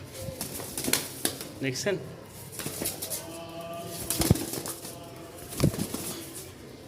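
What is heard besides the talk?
pigeons cooing and flapping wings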